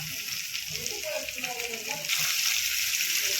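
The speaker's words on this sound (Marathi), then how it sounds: "आता ते मोठ्या गॅसवरती चांगलं परतून घेऊ मासे" Mackerel fish fry in oil in a pan over a high flame, giving a continuous loud sizzle that swells partway through.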